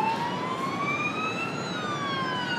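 A police siren sound effect from a music video wails in a smooth rising and falling sweep, steady and fairly faint, with no speech over it.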